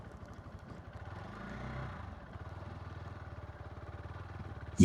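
A Hero X Pulse 200 motorcycle rolls along slowly, its single-cylinder engine putting out a steady low rumble with a regular pulsing beat, close by and continuous, easing briefly before settling back into the same even rhythm.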